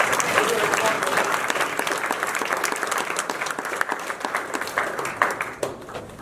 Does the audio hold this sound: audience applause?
yes